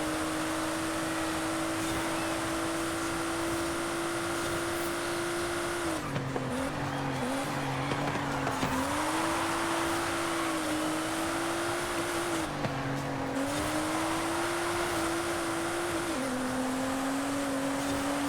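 A Nissan 370Z with a slight power upgrade and weight reduction races in a video game, its engine holding a steady high drone with brief dips at gear shifts and faint tire squeal, continuous and alone.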